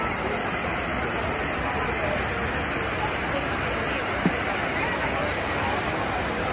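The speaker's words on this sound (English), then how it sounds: "Okay, now we're at the Trevi Fountain. There's a lot of people at the Trevi Fountain." Water pouring steadily at the Trevi Fountain in Rome, a continuous broad rush that fills the scene, with a busy crowd's murmur blended into it and one brief sharp tap partway through.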